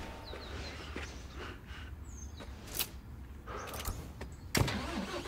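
A car in the video game Construction Simulator 2022 pulls away, its engine a low steady rumble with scattered clicks and brief rattles, fairly faint and with no talking.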